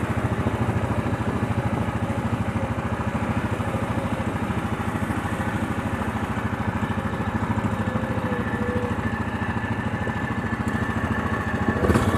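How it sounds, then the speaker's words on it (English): An engine runs continuously at a steady, throbbing low pitch, the drone of a small vehicle coasting on engine braking along a frozen winter trail, with faint rattles. "Let the engine braking take over and slim me down a little bit."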